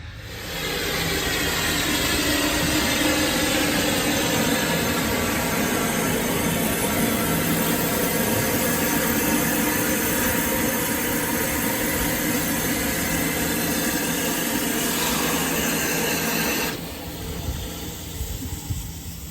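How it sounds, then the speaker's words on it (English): A Haverthwaite steam railway train pulls into the platform with a steady, broad hiss and rumble that holds loud for most of the stretch, then drops off near the end. "we've also got our train just coming in to the platform"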